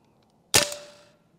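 A single sharp shot from a powerful semi-automatic air rifle, fired close up at the muzzle: one loud crack with a short ringing tail that fades within about half a second, heard alone.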